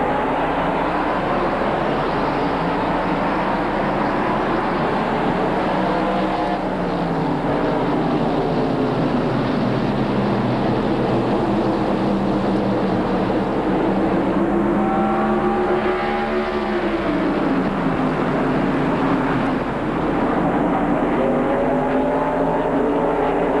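Stock race cars at Richmond International Raceway in 1996, a loud continuous engine roar with pitch sweeping up and down as the pack passes, dense and unbroken throughout.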